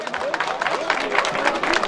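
Crowd applause at a village festival in Urumsaray, a steady patter of many hands clapping mixed with a murmuring crowd and a voice talking over it.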